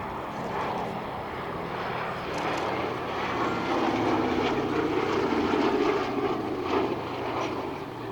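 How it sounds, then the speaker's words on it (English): The four propeller engines of a B-17G Flying Fortress bomber roar overhead at the RAF Cosford Air Show 2024, a loud, steady droning rumble that swells to a peak and eases slightly as the plane passes. "Final run, the B-17G Flying Fortress"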